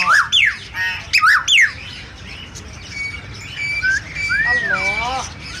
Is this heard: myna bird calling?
yes